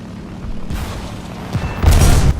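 A rocket launched in War Thunder gives a low rumbling whoosh that builds, with a louder burst near the end, heard alone without talk.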